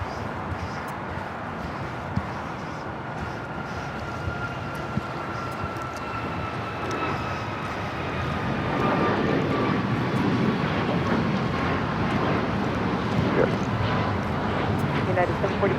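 An airliner lands on runway 25 left at LAX, a steady broad roar of jet engines and rushing air that swells louder in the second half, heard from a distance.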